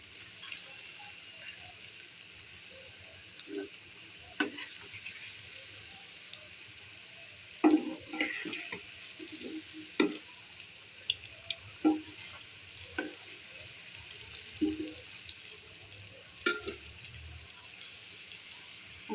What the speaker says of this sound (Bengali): আমি এভাবে সবগুলো ডোনাট ভেজে নিব